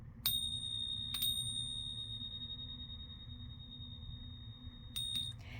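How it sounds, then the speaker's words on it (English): Small tingsha bells strike with a bright ping that rings on, sustained for several seconds, then another strike near the end over a low background hum. "which is the tingsha bells"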